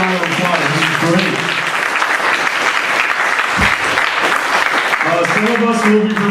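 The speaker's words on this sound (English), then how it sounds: "Give everybody a round of applause." Audience at a comedy show breaks into loud, steady applause mixed with cheering voices, a dense wash of clapping that fills the whole stretch.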